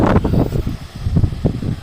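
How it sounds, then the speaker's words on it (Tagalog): Strong gusts buffet the microphone in a low, rumbling roar that rises and falls continuously. "Hangin po dito sa amin."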